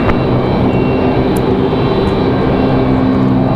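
A medevac aircraft departs from runway 23 left at Raleigh-Durham International Airport, its engine noise a loud, steady broadband roar that holds evenly throughout with no talk over it.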